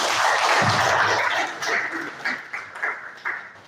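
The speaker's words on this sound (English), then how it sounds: "Please, another round of applause." Applause from a conference audience, a dense patter of clapping that thins into scattered, separate claps toward the end.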